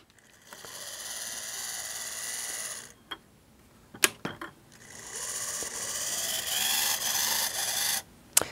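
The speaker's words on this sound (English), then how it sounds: "because of the inefficient motor and all of the gearing that's involved," A 40-year-old DC model locomotive with an inefficient motor and gearing whirs and whines in two long noisy runs, broken by a pause and a few sharp clicks and knocks, close and alone.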